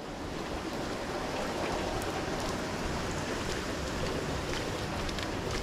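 Rain falls steadily in Tokyo, a dense, unbroken hiss of drops that stays loud and even throughout, with no voices.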